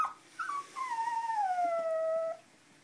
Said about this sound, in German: Und hier nebenan, die hier ein bisschen rumquakt, ist unsere Coco.